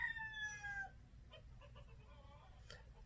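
Roosters crow faintly in the background of a quiet indoor room, one drawn-out crow at the start followed by a few short, distant clucking calls.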